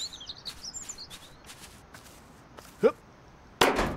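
Birds chirping outdoors in a demolition video game, several high tweets and trills early on, moderately near, followed by a sharp crack and a loud crackling burst at the end.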